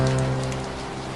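Steady rain falls in a stormy city outside City Hall, a dense even hiss with a low hum beneath, fading slightly over a brief moment with no voices.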